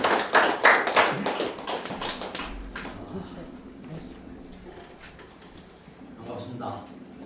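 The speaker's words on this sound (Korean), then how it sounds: "박수 부탁드립니다." A small lecture audience at an academic forum in Korea claps briefly. The sharp, scattered claps are strongest at the start and fade within about three seconds, followed by quieter room sounds and faint talk.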